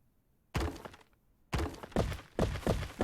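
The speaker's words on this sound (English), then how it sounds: "I destroyed the one and it collapsed all the way down to the one that has a solid foundation" A base foundation in the video game No One Survived is destroyed and collapses, heard as several heavy thuds and crumbling impacts, the first alone after a brief silence and then a quick series of close crashes.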